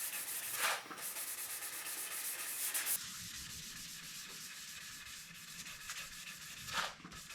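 Dry hand sanding of a guitar body with fine Super Assilex abrasive sheets at 600 to 800 grit, a steady close rubbing hiss in rapid back-and-forth strokes with a brief pause and a few sharper swipes.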